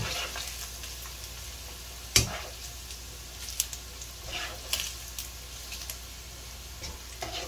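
Tocino, sweet cured pork, fries in a pan with a soft continuous sizzle and a few light ticks and pops of utensils, fairly quiet and without talk.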